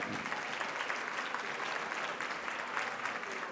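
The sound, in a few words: audience applause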